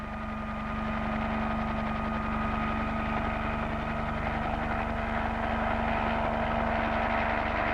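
Aircraft and helicopters carrying aid after an earthquake in Peru, a steady droning engine hum with tonal whine, continuous and moderately loud with no voices.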